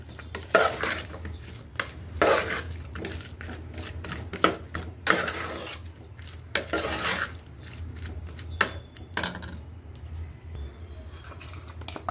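A cup of jaggery is stirred in a metal pan for a sweet filling, with irregular scraping and clinking strokes of a spoon against the pan over a faint low sizzle, close by, and quieter pauses between the strokes.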